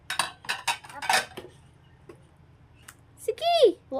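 Plates and cutlery clink and clatter in a few short bursts while dishes are washed by hand, with nearby talking and a voice over most of it.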